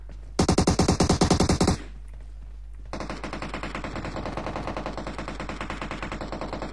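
Gunfire in the mobile shooter PUBG Mobile: a loud burst of rapid automatic shots, then a short pause. A second, longer and fainter stream of fast shots follows and runs to the end.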